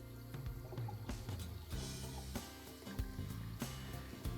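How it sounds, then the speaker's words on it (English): A thin tap stream about the width of a pencil, running for drinking water sampling, trickles and splashes softly into a container, faint and close with small drips and bubbling. "reduce the flow that the stream is no greater than 1/4 inch in diameter"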